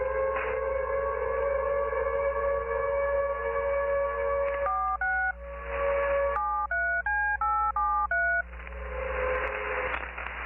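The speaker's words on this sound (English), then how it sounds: "Those beeps at the end of the transmission, don't they kind of sound like when you press a sequence of numbers on a phone" A Fallout 4 radio transmission plays a droning tone pattern, then ends with a sequence of distinct DTMF phone keypad beeps, each short tone clearly separated, heard clean and fairly loud over a faint low hum.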